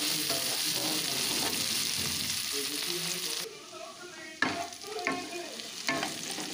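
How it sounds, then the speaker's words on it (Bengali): Chopped chilli and ginger stirred into aubergine mash frying in a pan, a continuous loud sizzle broken by scraping and stirring strokes, close by with no talk. "আদা লঙ্কাটা দিয়েও ভালো করে মিক্স করে নিচ্ছি।"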